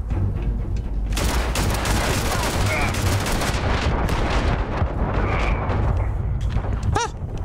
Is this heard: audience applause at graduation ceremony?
no